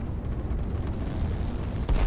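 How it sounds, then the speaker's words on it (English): A rocket blast in the strategy game Line War, heard as a dense low rumbling burst that stays loud through the clip, with a heavier thump at the end. "Another rocket."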